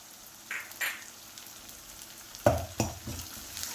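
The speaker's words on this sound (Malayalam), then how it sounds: "അതുകൂടി ഇട്ട് കൊടുത്ത് നല്ലതുപോലെ ഒന്ന് വഴറ്റി കൊടുക്കാം." Crushed ginger sizzling and being stirred in a hot pan, with a few sharp stirring scrapes over a low steady fry, close and fairly quiet.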